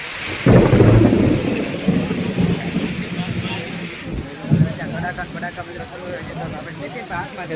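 Heavy monsoon rain pours steadily outdoors as the season sets in, with a deep roll of thunder booming near the start and fading into the continuous hiss of the downpour.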